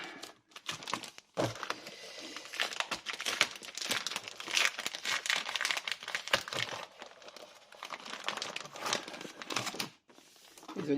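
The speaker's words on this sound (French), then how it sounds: "Désolée pour le bruit du papier." Continuous crinkling and rustling of wrapping paper while unpacking craft papers, close up and fairly loud, with irregular crackly bursts and a brief pause near the end; no talking.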